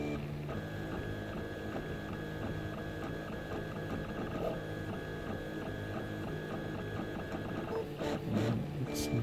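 A Prusa-clone 3D printer runs a print, its stepper motors whirring in steady, tonal buzzes with shifting pitches over a constant hum, close and continuous, ending with a few sharper clicks and movements.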